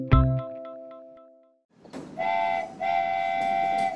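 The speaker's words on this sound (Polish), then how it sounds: "Jedzie pociąg." A cartoon train pulls away in a children's animation, a brief clang followed after a pause by a steady chugging rumble and a bright sustained whistle, heard alone.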